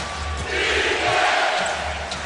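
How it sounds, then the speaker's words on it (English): Steady roar of a packed NBA arena crowd at a Memphis Grizzlies versus San Antonio Spurs game, a dense continuous wash of voices swelling slightly in the middle and never dropping away. "Danny Green trying to quiet the crowd, cannot."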